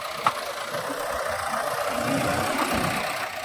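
A tractor engine runs in an agricultural field as a steady mid-to-low drone, close and even, with one brief knock near the start and no talking.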